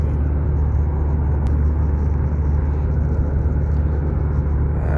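Lorries and other traffic roll along a wide four-lane highway in Kuwait, making a steady, continuous low road rumble and tyre hum that carries on unbroken throughout, with no talking.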